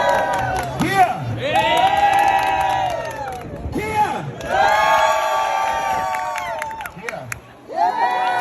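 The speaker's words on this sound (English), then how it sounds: "Clap and cheer now." A street-performance crowd in Covent Garden, London, bursts into loud cheering, whooping and clapping in two big swells, with a voice calling out between them.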